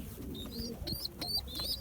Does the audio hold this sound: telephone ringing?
no